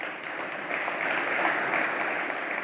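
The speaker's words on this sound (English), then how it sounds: "You deserve applause" Audience applause at a shale industry conference, a dense steady wash of clapping from a large crowd that holds at an even level throughout with no voices over it.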